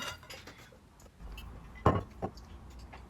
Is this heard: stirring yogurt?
yes